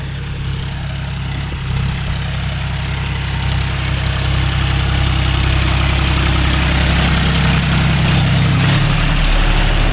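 A John Deere 5105 tractor pulls a 9-tine spring cultivator across farmland, its diesel engine giving a loud, steady, low rumble close by for the whole stretch, with a slight shift in pitch near the end.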